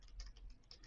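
Quick, light key clicks tap out a short burst of typing on a computer keyboard, faint and close.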